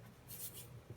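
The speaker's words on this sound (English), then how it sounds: "Do a straight vertical line between the two orthogonals" A marker drawing a straight vertical line on paper gives a brief, faint scratchy stroke, quiet and close.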